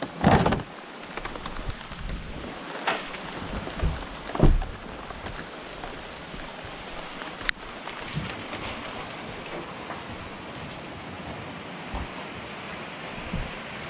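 Heavy rain falls steadily outdoors in a continuous dense hiss, with a few brief louder knocks and rustles breaking through near the start.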